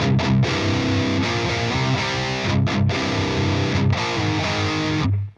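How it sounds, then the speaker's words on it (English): Loud electric guitar chords strummed through an amp with no overdrive pedal, in a choppy rhythm with brief gaps, cutting off abruptly at the end. "So this is just the amp without any overdrive on."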